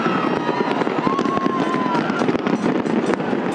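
New Year fireworks bursting over the Melbourne skyline: dense, rapid crackles and pops layered over a rumbling boom, with a thin whistle rising through the middle.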